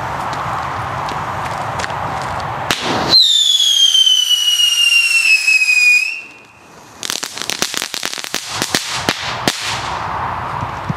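An old Weco Shocker rocket-motor firework set off outdoors: a sharp bang, then a loud, piercing descending whistle for about three seconds, a brief lull, and a burst of rapid crackling pops that tails off.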